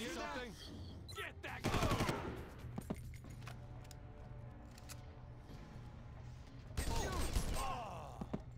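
Bursts of gunfire in the video game Far Cry 1, two loud rapid volleys separated by quieter clicks and mechanical handling, heard alone without talk.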